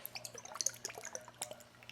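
L'Oreal Magic Nude liquid foundation sloshes and clicks inside its bottle, a series of small, close, thin liquid splashes and taps at an uneven rhythm with no talk.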